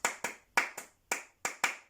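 Crisp hand claps in a syncopated pattern from Steve Reich's minimalist Clapping Music, seven sharp claps in an uneven rhythm, close and clear with no talk.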